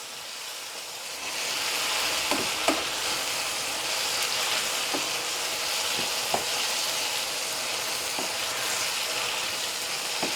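Curry simmering and sizzling in a pot as it is stirred, a steady close hiss of frying with soft scraping knocks of the spoon scattered through it, no voices.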